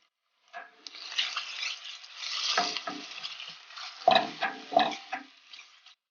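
Garlic and ginger sizzle as they fry with golden-brown onion in a pan for a chickpea rice pilaf, with close spatula stirs and a few sharper scrapes over a steady frying hiss.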